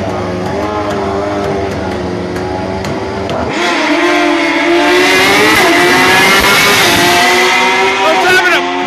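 Cars launching in a street race, with engines idling and then revving hard into a loud, rising roar that builds and stays strong, while people talk nearby.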